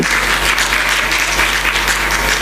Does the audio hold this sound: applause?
yes